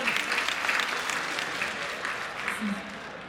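Crowd at a religious festival, Shravan Dham Mahotsav, claps steadily in sustained applause that stays fairly even, with occasional voices mixed in.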